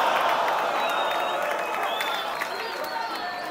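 Applause and crowd noise from a freestyle rap battle audience, a dense wash of clapping and cheering that fades slightly over a few seconds.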